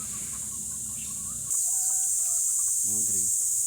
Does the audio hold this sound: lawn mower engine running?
no